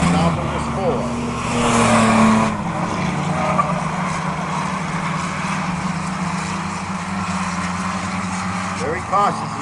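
Racing trucks run on an oval track during a qualifying race, engines droning loudly as they pass near, with brief tire squeal; an announcer talks over the track noise.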